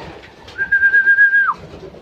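An off-color pigeon gives a single drawn-out cooing note, clear and close, lasting about a second before it dips and fades into quiet.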